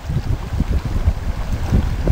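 Sailboat moving under sail at about 7.6 knots, a steady wash of water rushing along the hull with low wind buffeting the microphone, continuous and fairly close.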